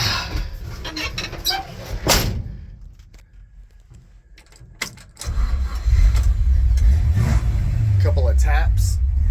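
A 1965 Chevy C10 pickup engine cranks and catches on a morning start, then settles into a deep, rumbling idle with throaty exhaust, close up, with a few light knocks early on.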